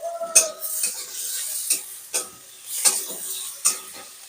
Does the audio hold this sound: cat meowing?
no